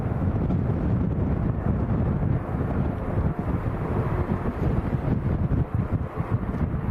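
Strong crosswind at Lanzarote Airport roars and buffets a microphone outdoors, loud and constant with gusty low rumbling across the whole stretch and no clear speech.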